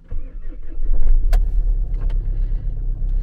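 A Mercedes Vito's engine idles after a cold start on a snowy winter day in Chisinau, a steady, close, heavy low rumble with a brief click partway through.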